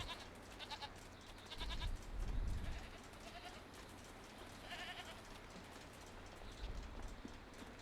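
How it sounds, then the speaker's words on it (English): Goats bleat in the video game Jade Empire over steady rain-like ambience. There are a few short bleats, with the loudest near the start and again around the middle. "There's some more damn goats."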